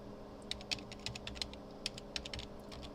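Computer keyboard keys tapped while entering a command into a terminal, a short irregular burst of clicks with one or two firmer strikes like an Enter press, close and clear over faint room hum.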